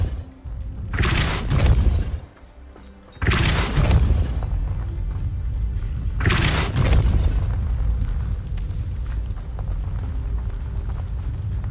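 Depulso force spells cast in Hogwarts Legacy go off as three loud, heavy booming blasts a few seconds apart, each with a broad crashing burst that leaves a rumbling tail.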